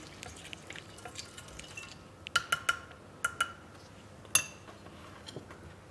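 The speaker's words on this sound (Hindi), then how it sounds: "अब मैं इन सब चीज़ों को अच्छी तरह मिक्स कर लूँगी।" A chicken marinade with mustard paste gets mixed in a bowl, giving faint scraping and several sharp clinks of a utensil against the bowl, separated by short pauses.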